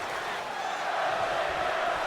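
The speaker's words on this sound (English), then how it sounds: "Crowd chanting for Ziggler as this one gets underway between these two men now." A wrestling arena crowd in WWE 2K19 keeps up a steady, dense roar of chanting and cheering for Ziggler, broad and sustained throughout, with no other voices over it.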